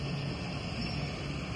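An IndiGo airliner at an airport ahead of takeoff, heard as a steady, distant broadband engine roar that holds constant and fairly faint throughout, with no voices.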